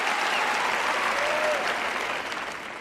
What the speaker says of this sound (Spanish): Les aplaudo.